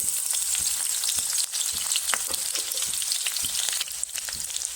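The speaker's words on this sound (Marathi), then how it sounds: "आता त्यात आपण हिरवी मिरची आणि ठेचलेलं लसूण घालून घेऊ" Green chillies and crushed garlic dropped into hot oil in a kadhai sizzle loudly up close, a bright crackling fry with sharp spattering pops and occasional stirring, no voices.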